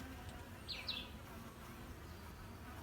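Honeybees buzz around a newly settled hive in summer, a faint steady insect drone with a couple of brief louder passes as bees fly close by.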